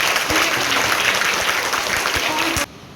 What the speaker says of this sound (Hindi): उनियाल जी के लिए एक बार बच्चे जोरदार तालियां बजाएं।